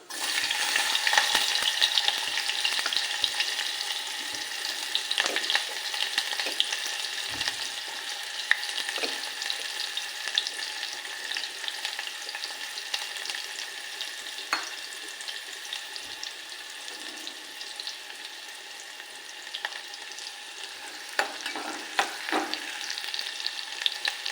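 Mustard seeds, cumin and onion fry in hot oil for a homemade tambda-hirva rassa curry, giving a steady, close, dense sizzle throughout with occasional sharper crackles and stirring clatters, and no voices.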